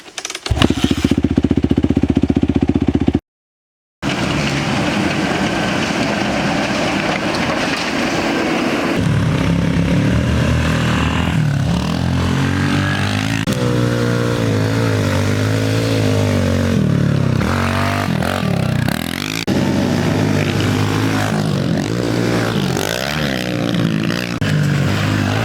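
A pit bike engine runs loud and steady after a kickstart, revving up and down with one brief cutout near the start, at a farm motocross track during pit bike racing.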